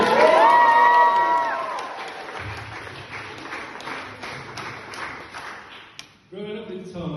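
Wedding guests cheer for the bride with a loud burst of whoops and applause that fades into scattered clapping and chatter, followed by a voice resuming speaking.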